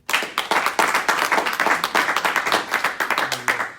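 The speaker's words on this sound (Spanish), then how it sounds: "Un aplauso para Cristo" A church congregation at a Bible institute conference claps steadily, dense rapid applause that carries on without a break for several seconds at moderate distance.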